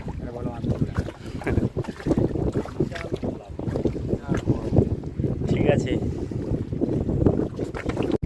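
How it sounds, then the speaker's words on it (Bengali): Strong wind buffets two fishing boats tied together on Sundarbans waters, a rough continuous roar of microphone gusts beneath a man's speech. "আর প্রচণ্ড হাওয়া হচ্ছে, জানি না আমার কথা ঠিকঠাকভাবে শোনা যাবে কিনা"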